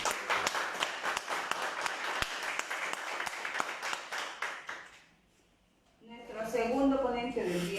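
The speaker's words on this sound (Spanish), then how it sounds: "Les solicito un aplauso" Applause from an audience at a talk on risk analysis and executive protection, a dense spatter of claps lasting about five seconds, then a short hush before a voice begins speaking.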